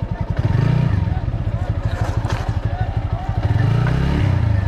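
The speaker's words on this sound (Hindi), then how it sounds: "ऑफ रोड राइडिंग के मजे लेते हुए इन पहाड़ों पे आना आसान नहीं है, ना बाइक चलाना आसान है" Off-road motorcycles climb hilly terrain at Panikot, Faridabad, Haryana, engines revving and chugging loudly and close with rapid pulsing exhaust beats that rise in pitch during acceleration, plus rattles and scrapes from the rough ground.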